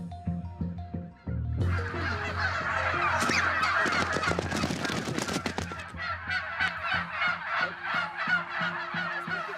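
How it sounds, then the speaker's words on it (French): Black Bresse turkeys on a farm gobble and call loudly in a dense, overlapping chorus of rapid rattling cries that continues throughout, close and busy. "Bon, nous, c'est des dindes noires."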